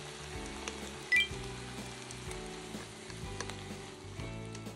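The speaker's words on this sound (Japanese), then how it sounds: "卵を戻し入れ調味料を回し入れたら炒め合わせます" Mushrooms, komatsuna and egg stir-fry in a pan over medium heat with seasoning just added, giving a steady low sizzle, a soft scrape of stirring and one brief clink near the start.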